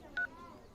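A phone keypad gives out a single short dialing tone, a brief clean beep that stands alone and fairly quiet.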